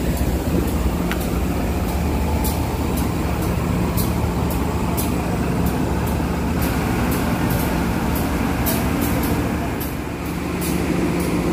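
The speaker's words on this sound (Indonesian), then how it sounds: "kereta api lokal tujuan akhir stasiun Cicalengka baru datang nih ya" A local train bound for Cicalengka station rolls into an Indonesian station, a loud, steady rumbling roar with repeated rhythmic clacks of wheels over rail joints throughout, no one speaking.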